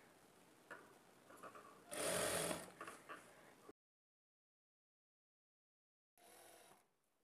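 A sewing machine stitches a blouse lining hem patti, running in a loud steady burst before stopping completely for a few seconds, then starting up again briefly.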